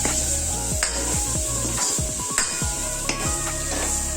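Tomatoes cook in a spicy masala for Kolhapuri misal, with a loud sizzle broken by repeated scraping and clattering strokes of a spoon stirring the pan.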